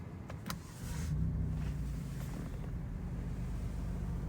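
A car engine in race mode starts up at about one second, then settles into a steady, fairly loud low rumble close by, with faint wind noise underneath.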